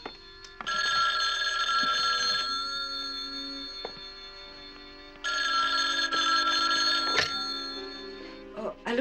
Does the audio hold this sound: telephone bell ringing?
yes